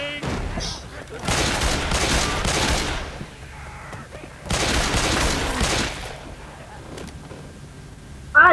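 Two long bursts of gunfire in Left 4 Dead 2 during the No Mercy campaign, each rattling for roughly a second and a half, loud and close, with quieter game ambience between and after them.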